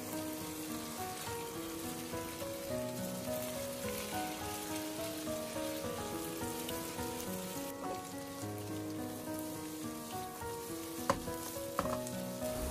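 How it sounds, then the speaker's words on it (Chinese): Green beans coated in egg fry gently over low heat in an oiled pan, giving a steady soft sizzle and crackle that runs throughout, with occasional spatula scrapes and no talking. "一直把豆角煎成像我视频中这样子两面金黄的状态就可以了"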